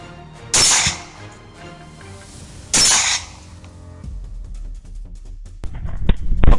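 Two sharp, loud rifle shots fired while hunting wild boar, spaced about two seconds apart, followed by quieter rustling and low rumbling movement.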